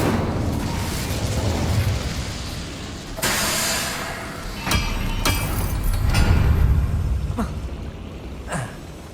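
Incendio fire spell cast in Hogwarts Legacy, with a loud burst and whoosh of flame followed by further booming impacts and crackles over a dense game soundscape.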